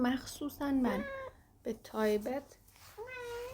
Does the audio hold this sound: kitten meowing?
yes